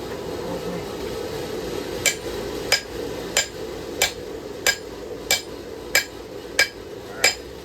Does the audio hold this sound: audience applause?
no